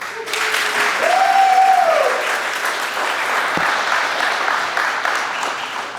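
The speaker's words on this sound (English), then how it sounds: "One more round of applause for Blake Hooper." Steady, full applause from an audience at a 2025 high school sports Hall of Fame induction ceremony, with a brief whistle rising above it early on, holding evenly throughout.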